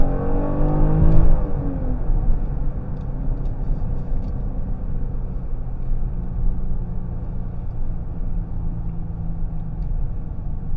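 A 2024 Genesis GV70 Luxury Sport Line in Sport Plus mode accelerates hard with a loud, close cabin rumble. A quick rising engine sweep near the start marks a gear change, then a sustained drone.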